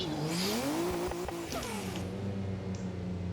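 A car in a racing video game drifts through a corner on the 2024 Drift Masters Spain layout, engine revving up and down with tire squeal as the handbrake is pulled, fading toward the end.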